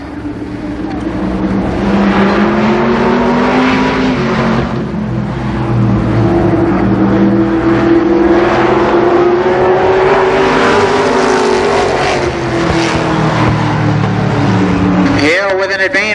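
Race cars roaring around Columbus Motor Speedway in 1990, a loud sustained engine drone that rises and falls as the pack circles, with a commentator talking over it throughout.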